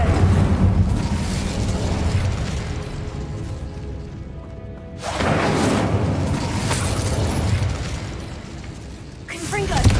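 Incendio fire spell in Hogwarts Legacy: loud roaring whooshes and booming bursts of flame in two surges with a brief dip between, a voice speaking over the blasts.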